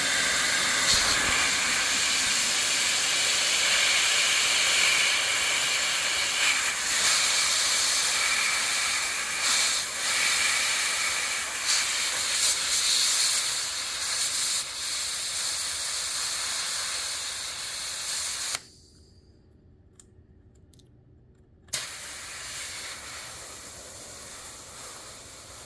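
Compressed gas hisses loudly and steadily from the fill nipple of a CoolFire SideKick magazine, a sustained close rush that cuts off abruptly for a few seconds and then resumes more softly.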